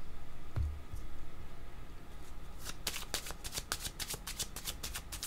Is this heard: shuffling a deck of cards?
yes